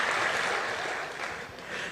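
An audience at a talk by Sandeep Maheshwari claps, a dense, steady wash of applause that fills the room and barely dips throughout.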